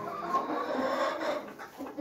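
Chickens cluck softly and intermittently in a poultry yard, faint and close, with low murmuring calls running through the brief moment.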